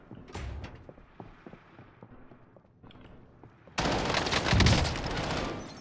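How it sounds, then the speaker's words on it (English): Gunfire in Call of Duty Warzone, the Cold War-era battle royale, in solo mode: quieter scattered shots and movement at first, then a sudden loud, sustained burst of rapid automatic fire that fills the last two seconds. "My bullets didn't register. I stopped shooting."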